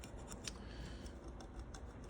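Small spring scissors on a Gordon 20-in-1 multi-tool snip and click open and shut several times close up, quiet metallic ticks over faint handling noise.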